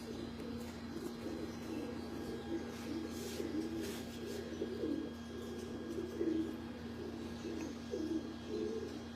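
Pigeons cooing on a rooftop in Lahore, soft repeated coos close by over steady background hum, with a few faint chirps mixed in.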